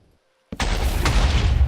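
TNT going off in a Minecraft TNT mod: after a brief silence, a sudden loud blast erupts into a continuous, rumbling roar of repeated explosions that fills the rest of the clip.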